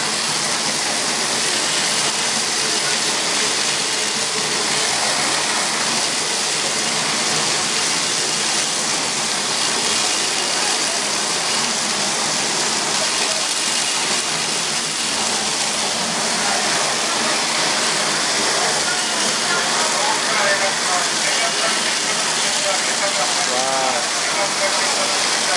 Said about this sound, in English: Sort of trying to get hoses and get water pressure going on.